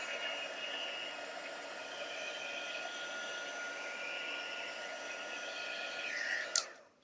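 A craft heat tool blows a steady, soft whooshing hum while melting embossing powder, running evenly close by and ending with a brief click as it switches off; no one speaks.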